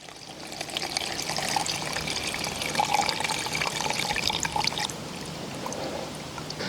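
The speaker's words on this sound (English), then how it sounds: "I am going to strain the tincture from the vegetation using this handy dandy little fine mesh strainer" Herbal tincture strained from plant material through a fine mesh strainer, a continuous close liquid pour and trickle with a bright splashing hiss that eases slightly near the end, no voices.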